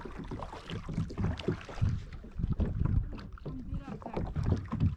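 Wind gusts over a reservoir during kayak fishing, a steady rough rumble of buffeting wind noise with water sloshing against the hull, with faint voices underneath.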